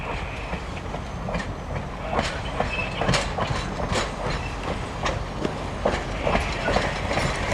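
A Reading & Northern steam train in snowy mountain country shoves along the rails on its way back toward Jim Thorpe, a loud, steady rumble close by, with rhythmic wheel clicks and clanks throughout and no talking.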